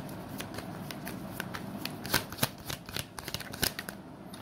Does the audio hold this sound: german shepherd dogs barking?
no